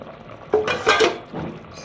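A lid is lifted off a handi of simmering aloo chicken, giving a few sharp metallic clanks and scrapes close by, followed by a softer knock.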